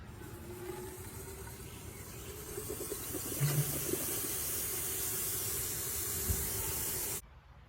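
Molten aluminum zinc alloy poured into a bat mold gives a soft, steady hissing and sizzling wash at low volume, swelling slightly midway and then cutting off abruptly near the end.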